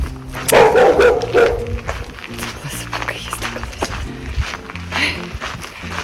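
A dog barks a few times close by near the start, then quieter activity and footsteps continue, with some household background noise.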